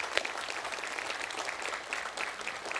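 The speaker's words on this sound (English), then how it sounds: "Give them a round of applause." A church congregation applauding during a Sunday service, with steady moderate clapping sustained throughout at a modest distance.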